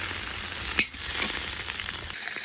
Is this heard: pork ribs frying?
yes